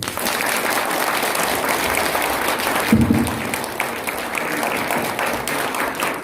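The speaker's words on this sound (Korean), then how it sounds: "다시 한번 뜨거운 박수 부탁드리겠습니다" An audience at a lecture event claps steadily and loudly for several seconds, a continuous wash of applause with a brief louder swell midway and little speech.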